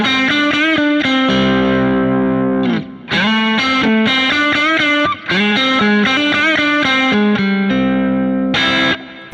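Electric guitar on the neck pickup running through a Kemper amp, playing a distorted riff of quick bends, slides and held notes, loud and close with a short break partway through.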